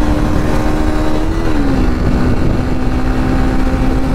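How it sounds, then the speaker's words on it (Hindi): A motorcycle speeds along the NH 31 highway with a loud, continuous engine drone mixed with rushing wind, and the pitch dips slightly partway through. "अब मजा आ रहा है गाइस बाइक भगाने के बाद"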